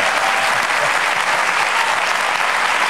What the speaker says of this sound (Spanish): Bien hecho, un aplauso femenino.